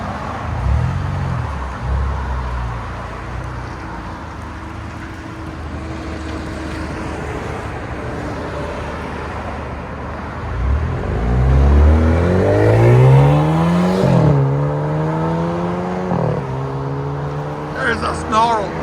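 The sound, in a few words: Alfa Romeo Giulia 2.0 turbo car exhaust revving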